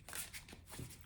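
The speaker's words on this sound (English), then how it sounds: "I just tend to shuffle more, kind of out of habit." A deck of tarot cards is shuffled close up in a brief quick riffle of soft papery flicks and slaps, quiet and without talk.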